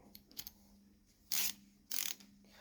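A small Stanley ratcheting screwdriver working in and out, giving a few light mechanical clicks followed by two louder, sustained ratcheting whirs, close and isolated.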